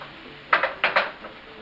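Chopped garlic tossed in a pan with a spoon, three or four quick metallic scrapes and clinks in a short burst over a faint background hiss, close and alone with no voices.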